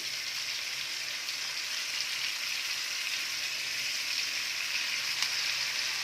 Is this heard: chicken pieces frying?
yes